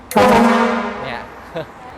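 One loud, blaring truck horn blast sounds close by and slowly fades, followed by a second, much shorter honk.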